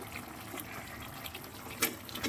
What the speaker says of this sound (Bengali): আমি একটু জল দিয়ে দিলাম জল দিয়ে এটা ফোটাচ্ছি